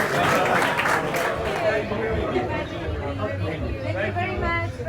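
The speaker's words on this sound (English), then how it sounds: "They're all clapping and applauding" Audience clapping at a comedy club dinner show, a dense steady patter of hands mixed with crowd chatter and murmuring voices throughout, fairly close and loud.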